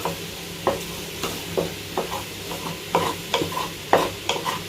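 Cauliflower masala is stirred and fried in a pan, a spoon scraping in regular strokes about twice a second over a soft, steady sizzle, with no talking.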